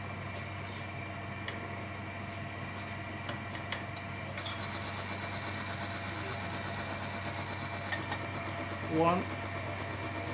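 A Polytron-treated engine runs with water mixed into its oil, giving a steady mid-pitched idle hum with faint regular ticking, heard close and continuous, with a voice briefly counting over it.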